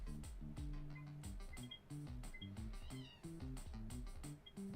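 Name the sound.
cat meowing in a video game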